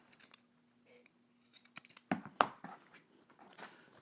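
Scissors trimming seam allowances on sewn garment fabric, a few soft close snips and cloth rustles, the strongest cuts clustered in the middle, fairly quiet and without talk.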